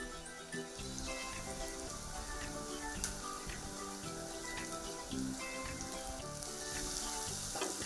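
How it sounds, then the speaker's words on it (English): Tomatoes hit a hot pan for spaghetti with spicy minced meat and keep sizzling in a steady, rain-like crackle, moderately quiet and close, with no talking. "Now I'm going to add my tomatoes."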